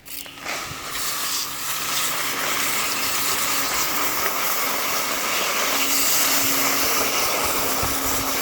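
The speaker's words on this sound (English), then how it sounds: "All right, let's hose it down." A garden hose sprays water steadily over Chinese cabbage in a vegetable garden, a continuous broad hiss that starts after a brief pause and runs on without talk.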